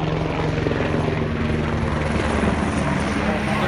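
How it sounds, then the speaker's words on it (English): A helicopter flies overhead at a roadside stage of the Tour de Yorkshire cycle race, giving a steady, loud rotor and engine drone that fills the whole stretch, with speech faintly mixed in. "Now, where's that helicopter going?"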